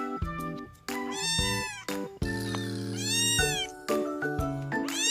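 Baby kitten meowing loudly and close, several high, stretched cries in quick succession separated by brief breaths.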